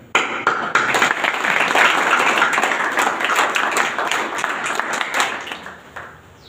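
Audience applause at a talk on life lessons for defence aspirants, a dense wash of clapping that starts abruptly, holds steady for several seconds and then tapers off.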